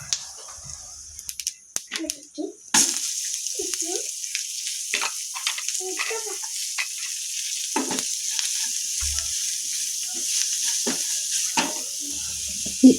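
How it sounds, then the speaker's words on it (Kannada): Onions frying in a pan with turmeric and pav bhaji masala for cabbage potato paratha: after a short pause, a loud continuous sizzle with occasional stirring clicks, close up, and brief speech near the start. "ಈ ಈರುಳ್ಳಿ ಸ್ವಲ್ಪ ಫ್ರೈ ಆದಮೇಲೆ, ಜಾಸ್ತಿ ಫ್ರೈ ಮಾಡಲಿಕ್ಕೆ ಹೋಗಬಾರ್ದು"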